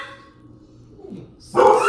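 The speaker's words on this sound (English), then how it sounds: "Doggy hurt his foot, and he's yelping over there." A hurt dog yelps in a sudden loud burst near the end, after a stretch of quiet room sound with a faint earlier whimper.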